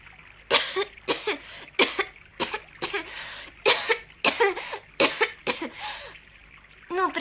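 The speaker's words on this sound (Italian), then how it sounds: "questa tosse non è niente di grave" A string of harsh, close coughs in repeated bursts, some in quick pairs, with short pauses between them and no talking.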